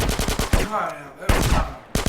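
Rapid automatic gunfire in the game GTA, loud bursts of shots with a short pause, mixed with game sound effects.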